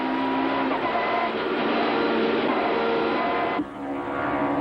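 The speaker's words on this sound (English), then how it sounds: "Let's listen to the car." Super touring race car at Eastern Creek in 1995, heard from inside as a loud, steady high-revving engine drone that holds for several seconds, then dips sharply near the end as the engine note shifts lower.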